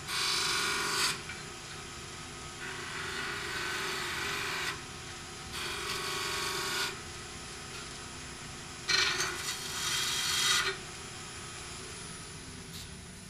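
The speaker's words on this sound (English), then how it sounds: "Beads can be done on spindles in any shape and size using this gouge." A wood lathe gouge cuts a bead on a turning spindle, making three bursts of raspy, hissing cutting noise separated by quieter gaps while the lathe hums along.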